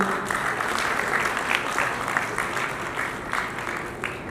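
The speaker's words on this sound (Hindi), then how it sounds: "तो एक बार जोरदार तालियां" Sustained audience applause at an awards ceremony honouring inspiration and laughter, a steady dense wash of many hands clapping at moderate loudness throughout, with no voices over it.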